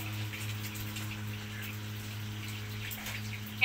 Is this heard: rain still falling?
yes